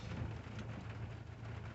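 Steady freezing rain falls outside on an icy day, a constant dense hiss with a low rumbling undertone, even and unbroken throughout.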